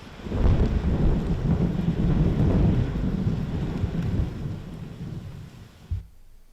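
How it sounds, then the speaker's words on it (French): Heavy rain showers with thunder in a southern region, a loud, steady roar of downpour and rumbling that holds for several seconds before fading, with a brief burst near the end. "la région sud a été encore une fois sujette aux averses et aux orages"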